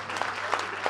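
A short burst of audience applause at a concert for Georgian emigrants, with dense, steady clapping from a crowd.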